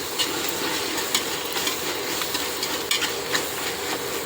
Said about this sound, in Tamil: ஒரு நாலு தக்காளி எடுத்து கட் பண்ணி வச்சுருக்கிறேன் அதுவும் போட்டுருங்க நல்லா வதங்கட்டும்